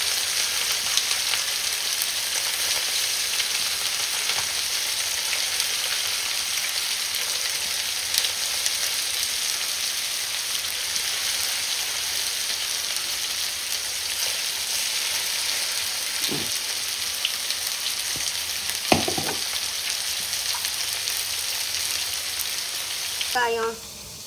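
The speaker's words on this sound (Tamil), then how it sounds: "இங்கே பாருங்க, பொரிக்கலாம்." Fish fries in a pan over a wood-fired stove, making a loud, dense, continuous sizzle with occasional faint clinks, all close. Near the end a brief burst of vocal sound rises over the sizzle.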